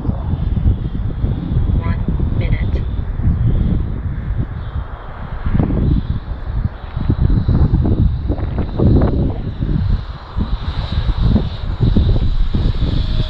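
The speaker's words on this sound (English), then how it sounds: "Fan sounds quite nice for a little fan." A small electric ducted fan drives a balsa scratch-built 25-inch Gnat model jet in flight, giving a steady whooshing whine in the open air with heavy wind buffeting on the microphone throughout.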